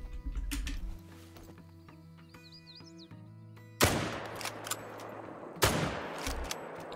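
Rifle shots at an alligator in the hunting game Call of the Wild: two sharp, loud cracks a couple of seconds apart, each with a rolling tail, following a stretch of quieter mechanical clicking and ambient game sound.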